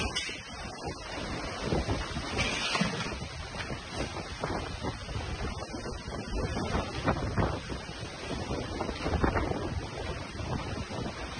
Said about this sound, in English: The wind picks up quickly in front of his house.